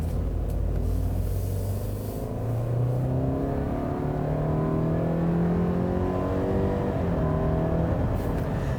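A 2017 Subaru Impreza 2.0i Limited with a 152-horsepower engine drives and accelerates, its engine note climbing steadily through several gear-like rises under constant road and tyre rumble, heard from inside the car with no talking.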